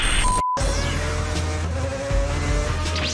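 A four-rotor rotary engine in a drift car revs and screams at high pitch with tire noise, steady and close, with no talking.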